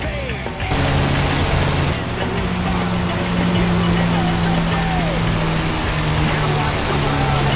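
Aircraft engine in DCS World throttling up, a loud, steady roaring drone with a sustained low tone that swells and holds throughout.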